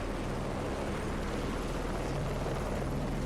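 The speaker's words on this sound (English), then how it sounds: "I did hear another unfortunate chopper spawn in." A helicopter in the Heliborne combat video game drones in a continuous rotor roar, a steady broadband wash that fills the whole stretch without pause, with no voices over it.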